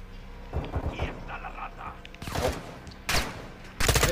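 Gunfire in the Modern Warfare 2 campaign, with several loud broadband bursts of shots between stretches of game noise and radio-style voices.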